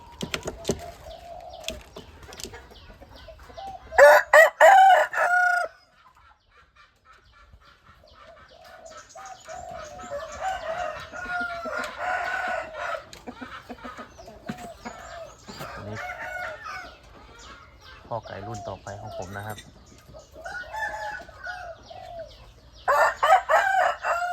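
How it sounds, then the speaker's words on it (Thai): A young rooster crows several times, loud and close, in bursts separated by stretches of clucking and softer fowl calls. The last crow comes near the end. "พ่อไก่นะครับ เป็นลูกของชิงตุงอีพีนะครับ"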